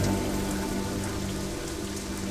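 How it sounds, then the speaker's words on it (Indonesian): Steady heavy rain pours in a horror radio drama, a dense continuous wash with no voices, close and even throughout. "Hanya guyuran air hujan saja yang kudengar"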